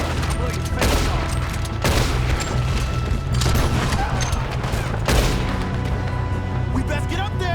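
Heavy gunfire fills a Red Dead Redemption II shootout: a dense, loud, continuous barrage with repeated sharper blasts, and character voices shouting underneath.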